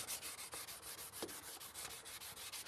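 Paint being sanded by hand with a cork block, a steady back-and-forth rubbing scrape repeating in quick, even strokes, close and fairly loud with no talking.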